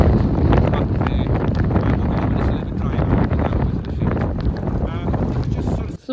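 Strong wind blows across a farm silage clamp, loud, buffeting the microphone in a constant low roar with gusty rustling throughout.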